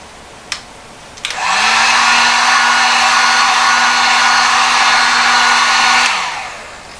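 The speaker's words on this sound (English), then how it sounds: "I'm not using the heat gun too much" A heat gun blows steadily over an acrylic pour for several seconds, a loud, close, even whoosh with a low motor hum. It starts after a couple of small clicks and then winds down.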